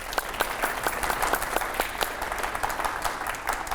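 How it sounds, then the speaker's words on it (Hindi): An audience at a televised event applauds, with steady, dense clapping that continues for a few seconds at moderate loudness, with no talking over it. "एक बार तालियां हो जाए इस बात के लिए।"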